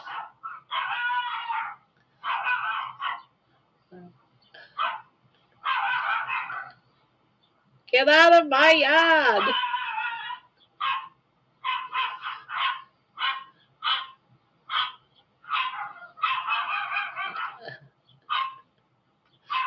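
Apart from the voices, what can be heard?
dog barking outside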